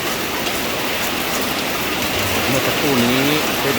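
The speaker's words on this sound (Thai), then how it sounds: "ต้นไม้ได้รับฝนครั้งแรกในรอบ หลายเดือนหลายหลายเดือนที่ผ่านมานะครับ" Steady rain falls on forest trees in a dense, unbroken hiss, with a faint tonal sound rising near the end and no clear speech.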